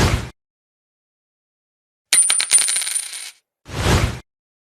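Coins are handled and dropped in a short flurry of bright metallic clinks and jingles, close and clear, between brief bursts of noise and silence.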